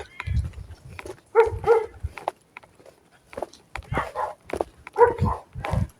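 Dogs bark in short bursts at a moderate distance, with occasional faint speech and footsteps mixed in.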